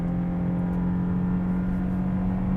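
A 2024 Toyota Prius XLE all-wheel-drive hybrid with a CVT accelerates, giving a steady, even cabin drone and whir with no talking.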